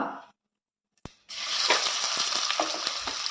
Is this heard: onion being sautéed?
yes